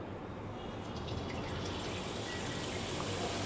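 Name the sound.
boondi batter poured into hot frying oil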